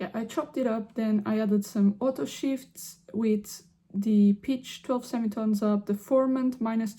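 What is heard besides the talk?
No distinct noise like a dog, phone or traffic.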